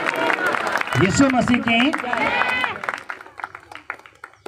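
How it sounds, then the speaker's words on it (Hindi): A church congregation applauds loudly for the Lord during a testimony service, with dense clapping and crowd noise under a preacher's raised voice, then thinning into scattered claps toward the end. "जोरदार तालियां बजाएंगे प्रभु के लिए, जोर से जोर से जोर से"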